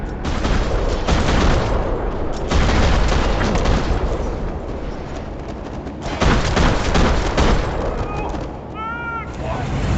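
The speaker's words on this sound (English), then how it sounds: "Another parking lot rattling with gunfire." Dense bursts of gunfire in a parking lot in the video game Max Payne 3 crackle and boom almost nonstop, loud and close, with a few brief whistling tones near the end.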